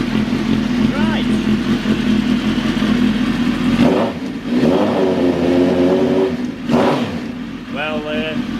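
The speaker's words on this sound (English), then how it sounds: "Take one of the silencers off, because I've got 2 sets of silencers, so she's a bit loud at the moment," Motorcycle engine running loud with one of its two silencers taken off, a continuous rumble with a couple of rev rises while someone talks over it.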